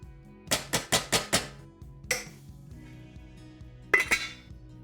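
A spoon stirring frozen peas into butter tofu in a pot, heard as a quick run of five metallic clinks, a single knock a moment later, then a final pair of clinks against the pot, all close and fairly crisp.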